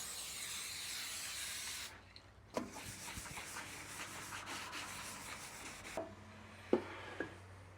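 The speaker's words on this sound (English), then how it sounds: "I'm gonna throw a coat of glide coat onto the top to make sure that boards can slide across the surface easily" Glide coat sprayed onto a wooden workbench top used with a bandsaw: a steady close hiss of aerosol spray, then a break, then several shorter bursts with light knocks and scrapes between them, without talk.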